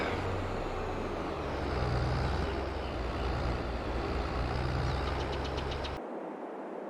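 Tractor engine in Farming Simulator 22 idling with a steady low rumble and mild knocking, continuous and fairly loud, then cutting off abruptly near the end.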